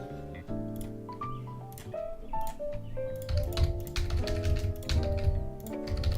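Fast clicky keystrokes tap on a gaming keyboard in irregular bursts, growing busier and louder midway, over steady background game music.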